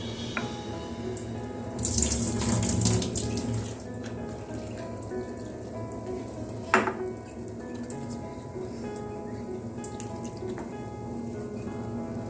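Lentils for dal being rinsed under a running kitchen tap, with a steady stream of water splashing into a vessel, a louder gush early on and a brief clatter partway through, and no talking.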